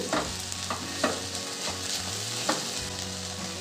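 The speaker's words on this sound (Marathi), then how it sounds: "साबुदाणा आपण छान परतून घेऊ" Sabudana being stirred and sautéed with jaggery and crushed peanuts in an open pan, a steady sizzle broken by several sharp scraping strokes of a spoon, close and moderately loud with no voices.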